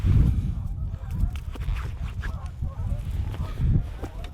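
Waterfowl calling near a frozen lake during a duck hunt, a run of low honking, quacking calls repeated through the stretch over steady outdoor rumble, fairly close and moderately loud.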